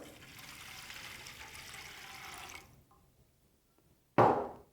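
Water poured into a plastic container while mixing homemade disinfectant wipes with alcohol and dish soap: a steady splashing pour for about two and a half seconds, quiet, then a short sharp splash or knock near the end.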